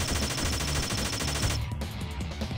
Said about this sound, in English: I keep chasing after him, showering it with bullets.